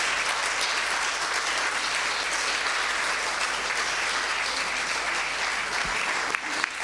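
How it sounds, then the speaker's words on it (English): Warm, sustained applause fills the hall at the closing ceremony of the 2018 Urantia International Conference. The crowd claps close and loud, a steady roar of many hands with no speech over it. "I am thankful for this experience and want to give you a warm applause."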